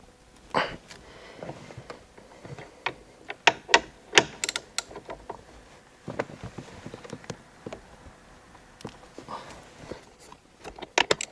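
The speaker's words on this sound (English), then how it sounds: "I'll take my 16mm socket and an extension, and I should be able to loosen the steering wheel" A 16mm socket and extension on a ratchet loosening the steering wheel bolt of a BMW i8, giving scattered close clicks and knocks with brief pauses between bursts.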